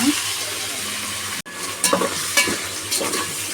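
Tomatoes tossed into ginger paste frying in a pan for mutton biryani, a steady close sizzle with a sudden brief drop, then several scraping stir clatters, with no speech.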